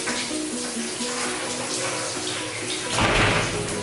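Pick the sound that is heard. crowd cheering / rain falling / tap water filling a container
tap water filling a container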